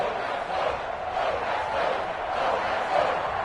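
Roaring stadium crowd in Madden 21 at a Miami Dolphins versus New England Patriots game, a continuous swelling cheer with a broad, distant wash of voices and no distinct talk.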